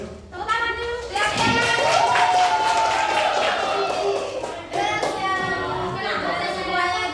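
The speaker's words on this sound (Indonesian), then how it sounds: "Tepuk tangan dulu." High school students clap together in a classroom during a literacy session, a steady round of applause close by with children's voices and chatter mixed in.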